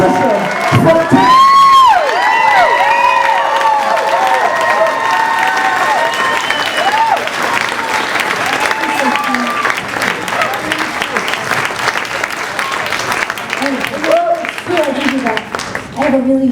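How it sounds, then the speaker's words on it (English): A variety show audience applauds loudly and continuously, with cheers and whoops rising over the clapping, while shouting voices and a person's speech carry across the crowd. "clap it up for probably the main reason why we're here"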